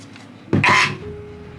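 A person with cough symptoms gives a single short, throaty cough or throat-clear, close and fairly loud, followed by quiet room tone.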